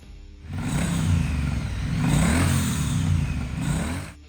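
A Triumph Bonneville T100 motorcycle's engine, styled after 1960s machines, revs steadily with a low, throaty rumble that swells and eases across a few seconds, moderately close and alone.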